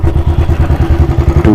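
A Royal Enfield Thunderbird 350 single-cylinder motorcycle engine thumps in a fast, even pulse while riding, loud and close with a steady rhythmic beat.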